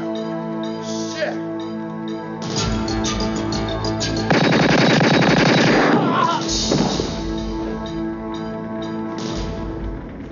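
Machine gun fire in a Vietnam War action film, a loud burst of rapid automatic shots in the middle with scattered gunfire around it, mixed with shouting voices and film sound.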